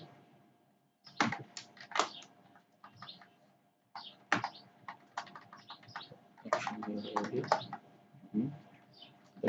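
Code is typed on a computer keyboard in quick irregular clusters of close clicks and key taps, with brief pauses between bursts in a quiet room.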